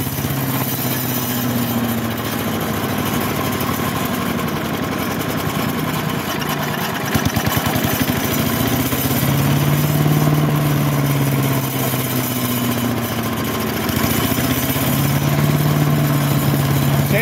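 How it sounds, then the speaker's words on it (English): A small engine with a dirty air filter idles steadily with a mechanical rattle, rising in a couple of brief revs before settling back to idle, close and continuous throughout. "See, it's running just fine. I'll rev it up a little bit. Running just fine."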